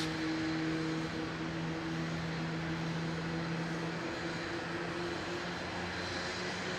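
Jetstar aircraft engines winding up at Melbourne Airport, a steady broadband roar with sustained tonal hums, moderately distant and constant throughout, no talk.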